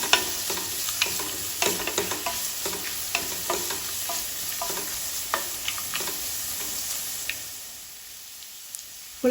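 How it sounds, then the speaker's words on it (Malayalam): Kodo millet upma with ginger being sautéed in a pan: a steady sizzle under repeated scraping stirs of a spoon against the pan, close and fairly loud, easing off near the end. "ഇനി നന്നായി വഴച്ചെടുക്കാം."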